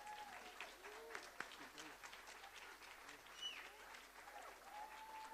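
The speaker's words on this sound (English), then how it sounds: "And a huge round of applause for our 15 graduates" A crowd applauding steadily at a graduation ceremony, with cheers and a few whistles mixed in, heard at a moderate distance.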